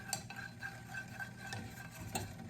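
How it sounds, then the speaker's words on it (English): Beeswax melted with lemongrass oil being stirred, making soft scraping and clinking sounds that repeat steadily at close range, with no voices. "And then I'm just gonna stir it."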